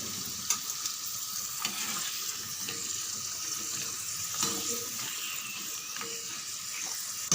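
Potato chips frying in hot oil in a home kitchen pan, a steady close sizzle and crackle running throughout with small stirring clinks, no voices.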